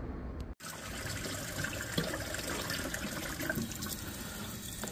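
A white ceramic tile, its paint scraped off, is rinsed under a running tap, making a steady stream of water splashing into a sink nearby, with no voices.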